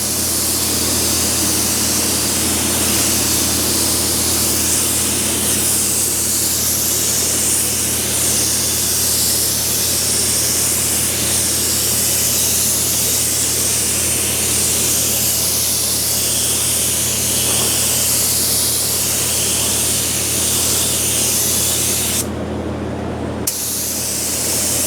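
A spray gun lays a second coat of paint on a '37 Chevy, a steady, loud, continuous hiss running almost unbroken for the whole span before cutting off abruptly near the end.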